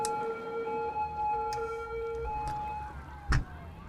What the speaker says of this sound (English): I'm gonna change those sirens.